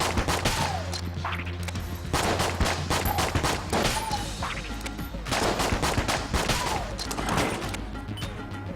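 Dense, continuous rapid gunfire from the bouncing shots of a bullet bat in Enter the Gungeon, loud and close with crackling impacts and brief chirping effects throughout.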